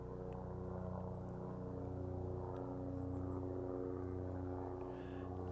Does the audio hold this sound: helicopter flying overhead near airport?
yes